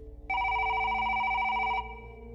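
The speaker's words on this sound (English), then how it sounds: "Suddenly, the phone rang." An electronic telephone ring plays as a sound effect in a ghost story narration: a single bright, steady trill lasting about a second and a half, clear and moderately loud over a low background hum.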